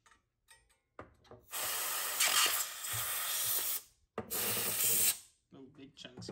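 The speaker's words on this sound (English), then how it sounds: "So I got my can of compressed air here. I'm just going to shoot it into the heat sink and let's see what comes out of it." Two strong, close bursts of hiss come from a can of compressed air blown into an amplifier's heat sink, the first about two seconds long and the second shorter, with small knocks and handling sounds before and after.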